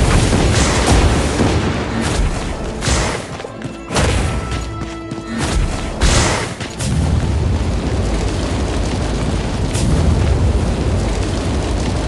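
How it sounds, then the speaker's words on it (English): Bomb explosions in the LEGO Nexo Knights video game, loud booming blasts that fill the whole clip, with several heavy impacts and crashes over dense game noise. "Bombs!"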